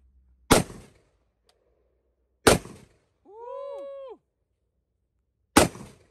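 Three sharp, loud gunshots from a micro AR pistol with a 5-inch upper, spaced a couple of seconds apart, with a brief tonal whine between the second and third shots.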